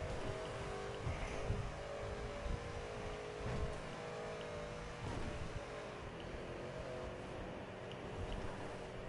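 A car engine drones steadily while driving in the video game GTA V, a continuous, sluggish motor hum with mild rises and dips throughout.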